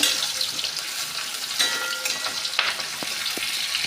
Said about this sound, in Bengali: পেঁয়াজটা আমি লাল করে ভাজবো